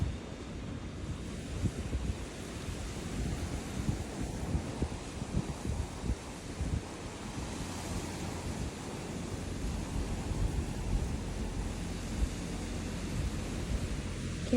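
Wind blows hard and steadily across a Florida beach at night, a dense roar buffeting the microphone with surf mixed underneath, continuous for the whole stretch with no voices.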